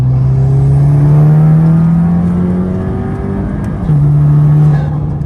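A loud Volkswagen GTI engine fitted with a big turbo drones at a steady pitch, rises, drops briefly as if shifting gear, then climbs again, heard from inside the car.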